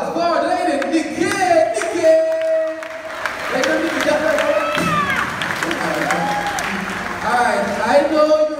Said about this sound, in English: Big applause for the lady